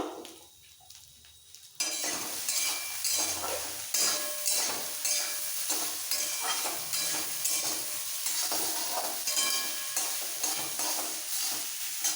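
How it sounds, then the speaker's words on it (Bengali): Soybeans with a pinch of salt and turmeric sizzle in a hot pan, browning lightly, while a spoon scrapes and stirs them in an uneven rhythm, close and fairly quiet, with nobody speaking. "সোয়াবিন ভাজা হয়ে গেছে এরকম একটু হালকা ব্রাউন ব্রাউন এসে যাবে ভাজতে ভাজতে"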